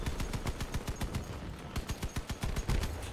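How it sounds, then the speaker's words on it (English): Rapid machine gun fire from a vehicle in the Crossout combat game rattles out in quick repeated bursts, loud and close, with the shots packed tightly through the whole stretch. "he's using machine guns as well."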